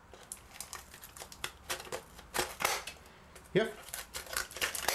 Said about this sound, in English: So what about the scissors with some cardboard?